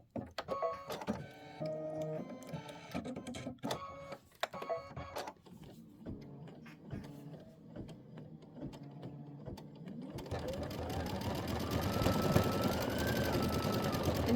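A Kimberbell quilt block being stitched on an embroidery machine, its steady mechanical whir and rhythmic needle clatter running on for several seconds and rising toward the end, with a long continuous stitching run close by.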